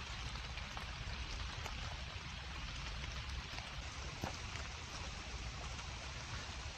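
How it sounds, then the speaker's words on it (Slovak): Heavy rain falling in a wet summer forest, a dense, steady hiss of drops on leaves and ground with occasional louder patters, continuous and even throughout with no voices. "poriadne prší."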